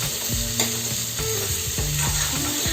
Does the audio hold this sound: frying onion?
yes